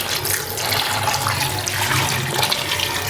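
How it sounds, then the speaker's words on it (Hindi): Water running steadily into a pressure cooker holding black chickpeas, a continuous close, fairly loud pour with no talking. "3 पाव मैं इसमें पानी ऐड करूँगी"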